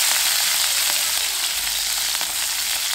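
Chopped ginger, green chillies and curry leaves frying in hot oil in a pan for mango-ginger pickle, a loud, steady close sizzle with no talk.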